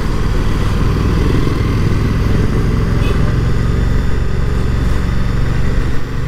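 A Moto Guzzi V100 Mandello motorcycle rides along the road in road mode, its engine a loud, steady drone with constant wind rush throughout.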